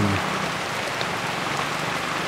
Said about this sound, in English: I don't know if you can see the rain.